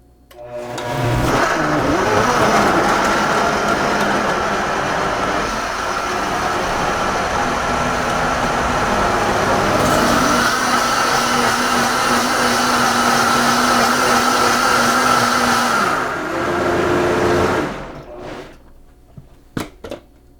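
A blender whirs loudly for about sixteen seconds as it blends a green smoothie of whole apples, greens and water, a steady roaring motor that starts abruptly and then winds down to silence.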